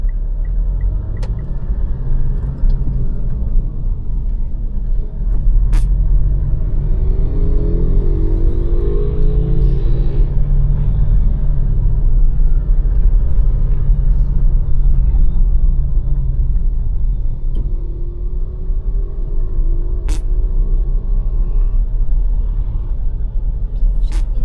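Cabin rumble of a manual Mitsubishi Montero Sport driving in Baguio, a loud steady low engine and road drone with engine note shifts during a downshift to second and a few faint clicks, no talk.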